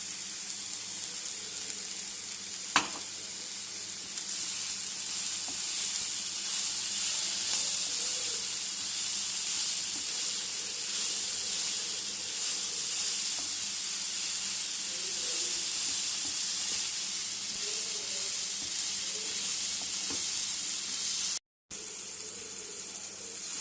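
Masala bread with chaat masala cooking in a pan, a long steady broadband hiss and sizzle close by, nearly uniform throughout with one brief tap early on and a momentary dropout near the end, no speech.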